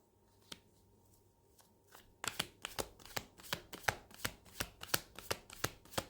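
Tarot cards being shuffled and drawn: after a quiet start with a single tap, a brisk run of crisp, evenly spaced card snaps and riffles plays close and clear, with no talk.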